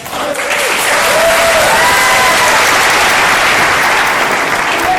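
Sustained audience applause at a high school Wall of Fame induction ceremony, a dense steady clapping from a large crowd with a few faint whoops over it.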